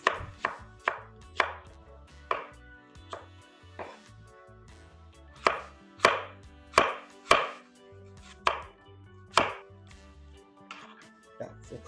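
Knife chopping onions on a cutting board for a Jamaican escovitch sauce, a run of sharp, close, irregular chops with short pauses between bursts, heard alone without talk.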